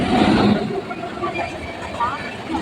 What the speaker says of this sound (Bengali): সামনে দিয়ে ছুটে আসছে আরও একটি এক্সপ্রেস ট্রেন